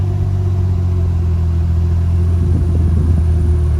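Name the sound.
Toyota 2JZ car engine with Tilton clutch pulling away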